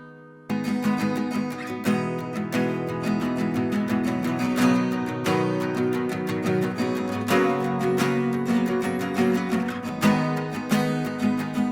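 Several layered acoustic guitars strum together in a bright, steady rhythm, starting abruptly after a short quiet moment and carrying on loud and full throughout.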